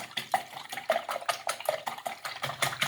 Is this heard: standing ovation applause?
no